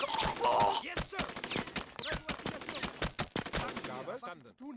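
Rapid bursts of machine gun fire rattle in the World War II strategy game Sudden Strike 2, dense staccato shots over several seconds, with a voice speaking briefly near the start and the end.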